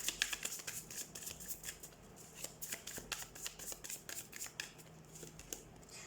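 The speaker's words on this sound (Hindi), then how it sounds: "पहले मैं सारी कार्ड्स निकाल लेती हूँ।" Tarot cards being shuffled and dealt for a Scorpio weekly reading, a close run of quick crisp riffling flicks and soft slaps in an irregular rhythm, quiet and without talk.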